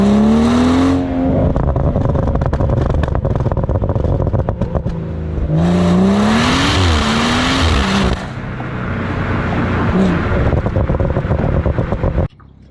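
A tuned BMW M140i with a stage 1 map revs hard and accelerates, its engine note climbing loudly in two big surges with a gear change between them. The sound is close, rough and continuous, ending abruptly.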